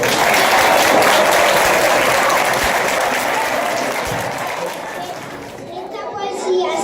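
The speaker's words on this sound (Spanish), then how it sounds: "vamos a recibirlo con un fuerte aplauso" An audience at a children's Christmas show for five-year-olds gives a loud, sustained round of applause that slowly eases off toward the end, with faint children's voices mixed in.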